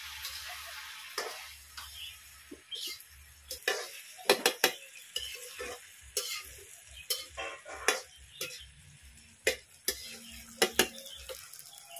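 Repeated scraping of a spoon through karela, chana, tomato and potato sabzi in a pan over low heat, with close, irregular clinks and scrapes over a soft background sizzle and no talking.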